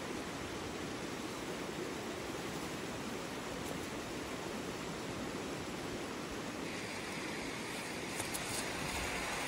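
A river flows right beside a spot outdoors in warm weather, a steady, close rushing wash of water that holds evenly throughout with no talk.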